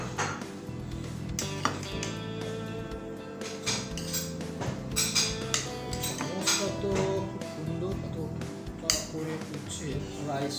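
Cutlery and plates clinking as a buffet meal of three curries and rice begins at a restaurant in Kolkata, with steady ringing clinks and taps under a person talking nearby.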